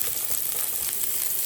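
Chopped onion fries in a pan until lightly browned, for a sautéed string bean and shrimp dish, with a loud, steady, close sizzle throughout.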